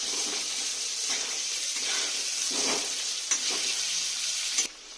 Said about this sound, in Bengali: এবার আলুগুলো আমি লাল লাল করে ভেজে তুলে নেব।